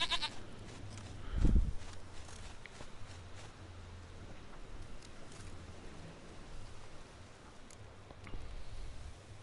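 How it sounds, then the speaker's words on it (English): A goat bleats once, loudly and up close, in The Witcher video game, followed by a long stretch of quiet ambient rumble and faint patter. "Dearest, sweetest goat."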